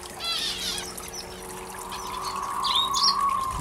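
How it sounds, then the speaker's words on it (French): Small birds in an outdoor aviary chirping in quick high bursts, with a light trickle of running water in the background. "Très joli oiseau."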